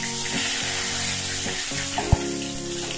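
A bay leaf and a pinch of cumin seeds sizzle in hot oil, a dense, continuous crackle close by with one sharp utensil knock near the end and no talking.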